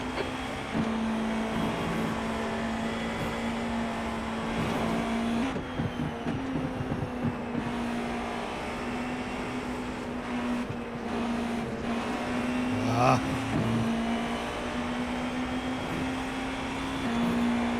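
A GTP prototype race car engine in an iRacing sim race at Le Mans, a steady sustained drone with shifting pitch and occasional gear changes, heard alone without talk.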